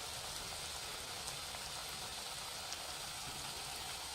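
Chakli dough frying in hot oil over a medium flame makes a steady, dense sizzling hiss that carries on unbroken throughout, with no voices.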